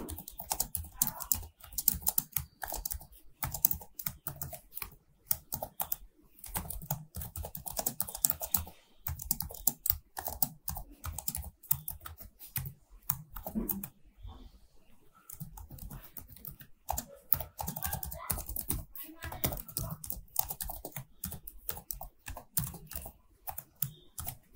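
Continuous rapid keyboard typing while entering Java code for a matrix program, dense irregular clicks running nearly the whole time with a brief pause midway, close and clear, no talking.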